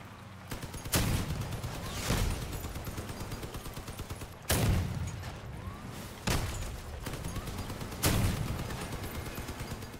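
Vehicle cannon in the video game Crossout fires four heavy booming shots, spaced a couple of seconds apart, over a constant rattle of machine-gun fire and engine rumble.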